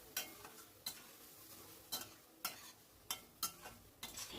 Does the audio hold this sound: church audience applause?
no